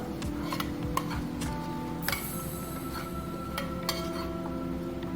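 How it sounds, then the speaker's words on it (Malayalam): Mustard seeds popping in hot oil are poured into pineapple pachadi, giving a soft sizzle mixed with clinks of a metal pan and spoon, close and alone without talk. "ഇതിൽ ഞാൻ ഇനി ആ കടുക് താളിച്ചിടുക"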